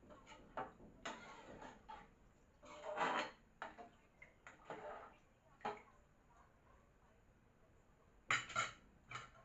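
A spoon scrapes and clinks against a pot while chicken biryani is stirred and mixed with added water, producing irregular metallic taps and scrapes of varying loudness, with talking in the background.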